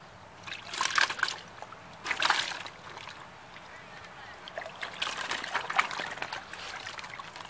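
Water poured into a plastic fish bag holding aquarium fish, heard as a few close splashy trickling bursts with softer sloshing between them, and faint background talk.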